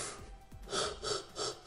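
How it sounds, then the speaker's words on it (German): A person yawns, letting out a short gasping, snorting intake of breath, heard quietly and close up in two or three brief pulses. "Du hast gegähnt und dann ja, statt normal einzuatmen."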